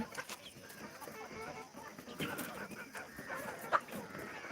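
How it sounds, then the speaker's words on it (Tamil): Native country chickens of the Siruvidai and Peruvidai breeds, parent stock, cluck softly at evening feeding time in a farm yard, faint and scattered under low background noise. "கோழிகளுக்கெல்லாம் தீவனம் போட்டிருக்கோம்"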